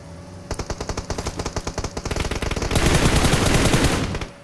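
Rapid gunfire from the PUBG Mobile battle royale game, a burst of evenly spaced shots that thickens into dense, loud continuous automatic fire near the end, with no talk.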